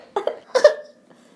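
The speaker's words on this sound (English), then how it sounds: "That was a cough." A short burst of coughing, two or three quick rough coughs close by, then quiet.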